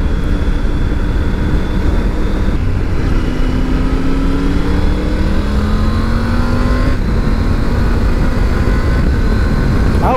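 Triumph Tiger 900 GT motorcycle engine pulls hard through the gears with quickshifter upshifts, a loud, steady drone whose pitch climbs, drops at each shift and climbs again, close and continuous over wind noise.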